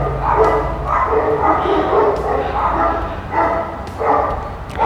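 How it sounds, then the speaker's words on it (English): Several dogs bark and yip out in a residential street, a run of sharp, fairly close barks that come in bursts and overlap one another, joined by an occasional whimper, with a steady outdoor hum underneath. "Even hearing the dogs bark,"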